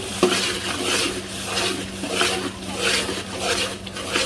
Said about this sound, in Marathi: पावभाजी मसाला, काश्मीरी लाल तिखट छान मिक्स करू.